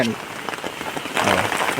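Rain falls in a dense, steady hiss that swells louder toward the end, with a faint voice underneath.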